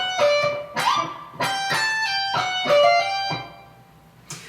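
Lead phrase from a guitar solo, played as a run of about seven clear, ringing notes with smooth legato hammer-ons and slides, bright and upfront with no voice over it.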